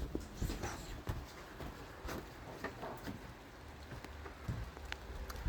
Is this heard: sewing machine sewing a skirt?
no